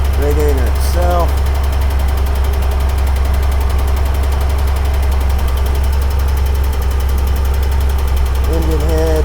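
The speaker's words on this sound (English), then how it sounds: "Seems to have smoothed out a little, the motor, the more it's ran." A 1961 Ford Econoline engine idles in a garage with a steady low rumble and constant vibration throughout, close and loud, with brief speech-like bursts near the start and end.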